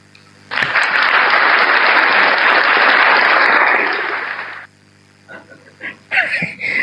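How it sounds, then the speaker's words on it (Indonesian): An audience bursts into loud, sustained applause for Martin for about four seconds, then it cuts off and a few people speak and laugh faintly. "Tepuk tangan buat Martin."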